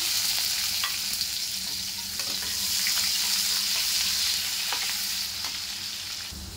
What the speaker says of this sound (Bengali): যে কুচানো পেঁয়াজগুলো দিয়ে দিলাম।